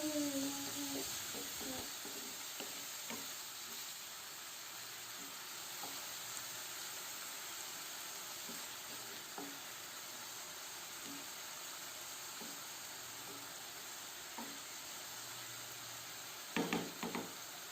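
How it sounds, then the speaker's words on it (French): Onion cooked with sugar sizzles in a pan over medium heat until caramelized, giving a steady close hiss with occasional scrapes and clicks of stirring throughout. "je vais faire revenir l'oignon quelques minutes jusqu'à ce qu'il devienne caramélisé"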